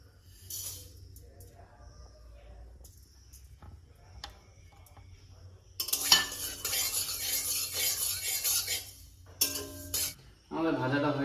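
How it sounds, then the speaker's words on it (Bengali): Whole spices (coriander, fennel, cinnamon, cardamom, cloves) dry-roast in a kadai, with scattered clinks and scrapes at first, then a dense rattling stir and sizzle that swells midway and continues with brief pauses. "এটাকে শুধু কড়াইয়ে হালকা করে ভাজতে হবে"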